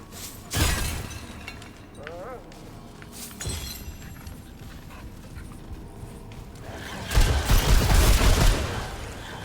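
Gunfire in the Remnant 2 video game: a few sharp, loud bursts at separate moments, the last a longer rattling volley, with quieter game ambience between.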